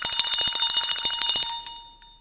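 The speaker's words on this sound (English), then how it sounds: "his glance happened upon a bell, and soon it rang loudly." A bell rings loudly in a fast, rattling stream of strikes like an alarm clock, about a dozen and a half hits in under two seconds, then stops and leaves a short fading ring in a Christmas Carol drama.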